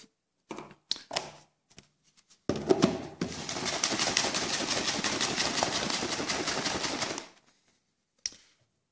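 A shaker bottle holding protein powder and liquid is shaken hard, a loud, fast, steady rattling slosh lasting about five seconds, close up and with no voice, after a few scattered clicks and handling knocks, ending in a single knock.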